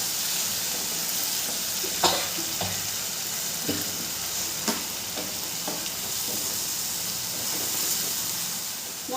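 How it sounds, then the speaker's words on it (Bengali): Spices and chopped tomato sizzle steadily in a hot pan, a continuous bright hiss broken by a few light scrapes and taps of a spatula stirring, close and even. "সমস্ত মশলাকে আমি খুব ভালো করে কষিয়ে নেব"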